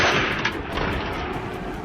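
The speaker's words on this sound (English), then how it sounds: "Each bullet trailed the boar's sprint, closing the distance with chilling precision." Gunshots fired at a running wild boar during a hunt: a loud blast at the start followed by a rapid series of sharp, regularly spaced shots trailing off, with no talk.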